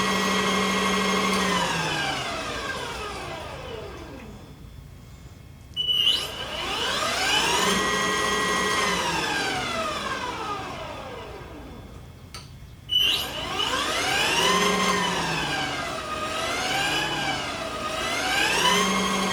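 Coyote Tri-Pin off-road adaptive ATV drive running, a steady high whine with rising and falling pitch sweeps as it changes speed and direction, two sharp clicks between passes, close and alone.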